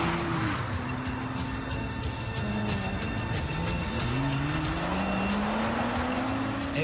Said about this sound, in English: a team of 10 test drivers thrashed 25 GTRs around this test track